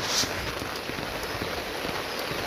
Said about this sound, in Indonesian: walaupun hujan kadang hujan juga berkah